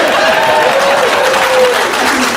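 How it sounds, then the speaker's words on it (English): Audience applause at a Father's Day stand-up comedy show, a steady wash of clapping and crowd noise lasting throughout, with a faint voice or tone running underneath. "We applaud the 6th grade teacher."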